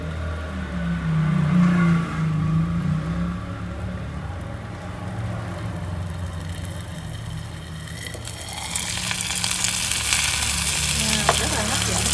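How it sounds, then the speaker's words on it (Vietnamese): Bánh xèo batter sizzling as it fries in a hot pan, a loud continuous crackling hiss that swells sharply near the end as more batter hits the oil, with no one talking. "cái bánh trứng bột nó kia xèo xèo cho nên là người ta dân gian mình gọi luôn là bánh xèo"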